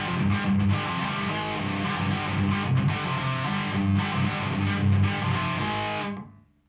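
Distorted electric guitar riff played at full speed, dense and loud with chugging palm-muted rhythm and accented stabs, sustained for about six seconds before cutting off abruptly.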